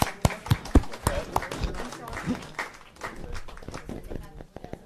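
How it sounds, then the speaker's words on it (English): Applause at a county board of education meeting for recognized board members: a dense patter of claps and scattered sharp hand strikes from a room of people, with voices talking over it throughout. "Let's give them all a round of applause"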